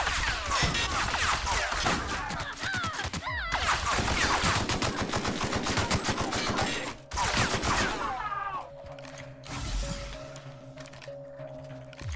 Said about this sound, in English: The shotgun shoots a lot slower than an automatic shotgun would shoot normally